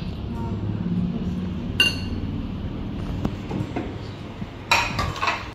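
Plates and cutlery clink sharply a few times while food is served at a home meal, with two brighter clatters standing out over steady background noise and low murmuring.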